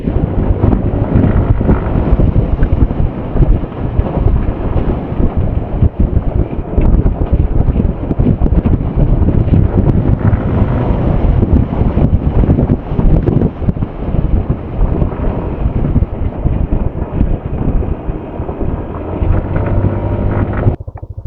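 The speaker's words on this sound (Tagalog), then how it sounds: "Wow, ang lakas ng hangin, nadadala ko." Strong wind roars and buffets the microphone continuously during a road ride toward Bagac, Bataan, loud and rumbling throughout, with a steady engine-like drone underneath and no talking.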